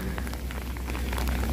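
Heavy rain pours down during a mountain train journey, a dense, steady hiss with scattered drops pattering close by. It stays constant throughout with no voices.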